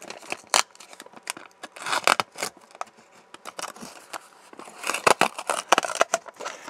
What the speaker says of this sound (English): Now I can probably just use my knife to get that Tyvek cut out.